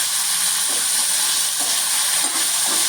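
Cut drumstick pods and onion sauté in a hot oil tempering of cumin, asafoetida and turmeric, giving a steady close sizzle with faint stirring clicks and no voices.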